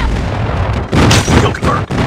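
Airstrike explosions in Call of Duty Mobile, loud heavy booms that start abruptly partway through and repeat in a rough cluster of blasts over rumbling game sound.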